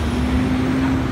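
Street traffic on Hatfield Street in Georgetown, a steady rumble of passing vehicles with a faint engine hum, close and continuous.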